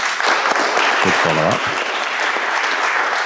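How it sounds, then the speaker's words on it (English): A television studio audience at a political leaders' special breaks into sustained applause, dense clapping filling the room, with a voice briefly speaking over it. "Big round of applause."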